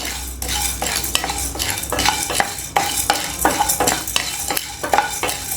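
Dry ginger, chana dal and spices are stirred in a pan, a ladle scraping in a quick, regular rhythm of repeated strokes over a soft dry frying sizzle, close and clear.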